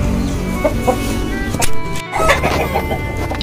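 AKC chickens cluck busily and close by while being fed fermented rice bran, a dense flock chorus with scattered louder calls and a brief gap near the middle.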